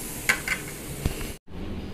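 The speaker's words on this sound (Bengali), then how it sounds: "আর আলু ভাজাটা প্রায় আমার হয়ে এসেছে।" Potatoes frying in a pan on a home stove, a steady sizzle broken by a few sharp scrapes and clinks of a spatula stirring, then a brief cut before the sizzling resumes.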